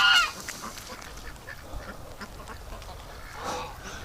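A domestic duck quacks loudly at the start by a lake, then fainter calls and soft outdoor noise follow, with another quiet call near the end.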